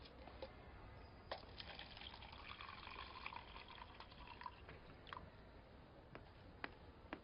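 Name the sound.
water poured for a visitor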